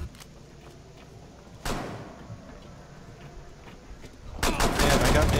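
Gunfire in Rainbow Six Siege during a team deathmatch bomb round on the House map: a sharp burst of shots partway through, then a louder, denser volley at the end over quiet background.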